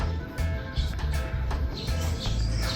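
Racing pigeons in a segmented loft with sliding doors and aviaries coo low and steadily, with scattered soft chirps over a faint background hum.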